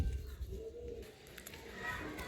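Madrasi pigeons in a cage at a pigeon market coo softly in short, low murmuring bursts, with faint background noise and brief traces of voices.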